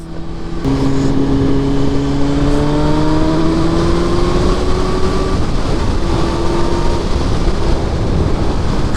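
A motorcycle racing fast in the video game HyperBiker, its engine whining loudly and rising steadily in pitch through the gears, close and continuous.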